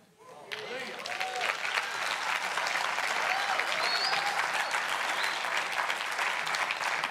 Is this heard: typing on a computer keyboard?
no